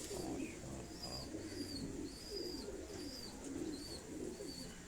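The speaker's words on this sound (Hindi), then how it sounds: "टैडी कबूतर ये आपको दिखाए जा रहे हैं" Teddy pigeons coo softly in a repeated, rolling rhythm, several low calls overlapping, with faint higher chirps above and no voices.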